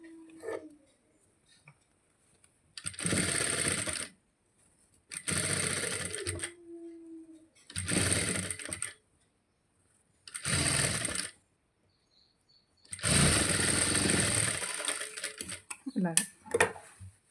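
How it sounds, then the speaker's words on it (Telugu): Sewing machine stitching a blouse, running in five separate bursts of rapid mechanical whirring a few seconds each, with quiet gaps between, close by; someone talks briefly in the pauses. "నేను ఇక్కడ కుడుతున్నాను ఇక్కడ కుడితే స్టిచ్చింగ్ ఏం కనబడదు"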